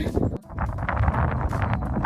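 Gusty wind blows outdoors on a snowy April day in New York, roaring steadily across the microphone with a broad rumbling buffet that briefly drops away before surging back.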